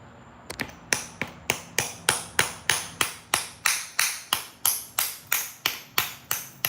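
Sharp rhythmic clicks ring out as a stone preform is knapped into a bowl and bevel, around twenty crisp, evenly spaced strikes close up with no talk.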